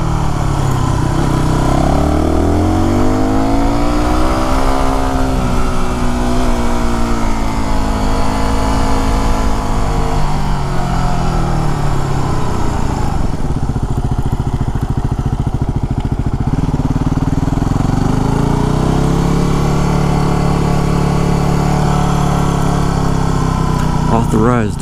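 A Yamaha WR250R motorcycle engine on a closed mountain road in the Santa Cruz Mountains, droning steadily under loud wind rush and rising and falling in pitch through corners over about 25 seconds.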